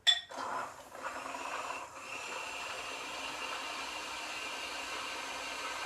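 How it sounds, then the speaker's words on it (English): A small motor whirs up after a brief clink and keeps running at a steady, even hum, fairly close by with no talking. "now I'm going to plug in my little blender"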